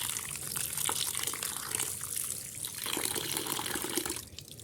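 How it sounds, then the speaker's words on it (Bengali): Flattened rice (chira) is washed in water, a steady close splashing and rushing of water that continues throughout. "আমি এইভাবেই চিড়ে ধুয়ে নিই।"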